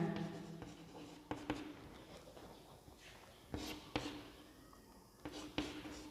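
Pen or chalk writing out a Class 10 polynomial maths exercise, with steady scratchy strokes and a few sharper taps across about six seconds, quiet and close, with no speech.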